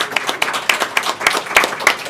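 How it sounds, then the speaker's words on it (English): Applause for sponsors at a tech summit, a short run of fairly loud, even claps from a small audience, about seven distinct hits over two seconds. "I would like to give round of applause for our sponsors"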